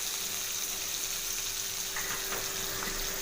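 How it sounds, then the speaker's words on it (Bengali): Mourala fish paturi, small fish wrapped in leaf parcels, frying in a pan, a constant dense sizzle and crackle heard alone throughout at moderate level. "এবার এক পিঠ ভাজা হয়ে গেছে, এবার এই পিঠটা ভাজা হয়ে গেলে"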